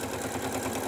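A sewing machine stitching a sturdy seam through fabric and batting, a fast even mechanical chatter with a regular rapid pulse, steady and close, no talk.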